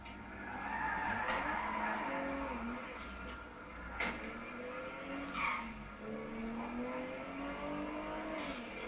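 An old, heavy hearse drives in a video game, its engine droning steadily with rising and falling revs, tyre squeals and occasional thumps over a continuous moderate-volume run without talk.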